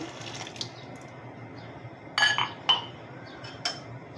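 A utensil stirs a powdered milk mixture for lachha semai in a metal pot, giving a soft swishing bed with a few sharp clinks and clanks against the pot sides.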